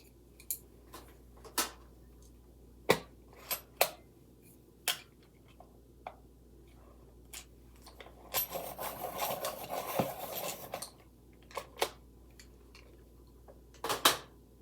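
A Prismacolor colored pencil is sharpened in a dense rasping burst of a few seconds, set among quiet sparse taps and clicks of pencils being handled on paper.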